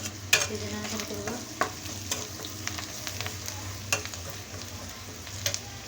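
Shrimp heads stirred in a frying pan with salt, chili powder and turmeric, giving a steady low sizzle broken by clicks and scrapes of the spoon against the pan.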